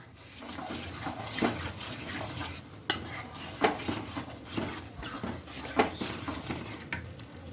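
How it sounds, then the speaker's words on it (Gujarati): A spoon stirs mashed boiled vegetables into fried onions in a pan for Gujarati pav bhaji, with soft scraping and clinks against the pan over a faint sizzle, in irregular close strokes. "હવે એમાં નાખીશું બાફેલો ચૂંદો, હલાવીશું।"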